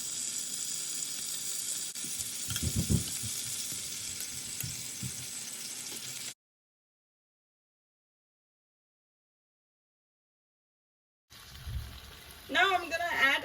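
Boiled mutton drops into a pan of sizzling masala for a Bombay biryani, giving a loud sizzle with stirring clatter, then a gap of silence before the frying hiss returns.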